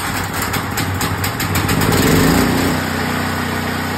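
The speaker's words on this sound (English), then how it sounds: "But I have a generator, which I stored properly. We'll turn the gas on. Turn the machine to on. Set the choke." Portable gas generator engine catches and runs with a steady, loud mechanical drone, briefly surging louder before settling into an even idle.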